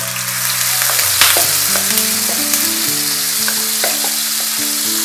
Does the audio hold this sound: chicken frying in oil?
yes